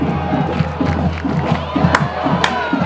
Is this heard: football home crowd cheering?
yes